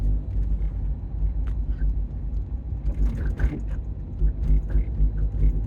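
An Alfa Romeo 156 driven on the road, its low engine and tyre rumble droning steadily from inside the cabin with a few faint knocks and rattles, no voices over it.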